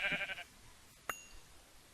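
Sheep in a Minecraft UHC game give a short, faint bleat, followed by a brief ding-like game blip, with no talk.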